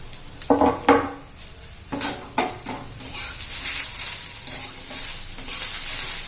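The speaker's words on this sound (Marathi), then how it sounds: "मस्त असं टोमॅटो मऊ होईपर्यंत आपण परतून घेणार आहोत" Tomatoes sautéing with onion, garlic and ginger in a pan for a dhaba-style farsan curry, with a soft sizzle under repeated scraping and stirring strokes of a spoon against the pan, close and steady.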